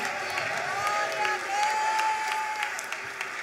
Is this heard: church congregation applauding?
yes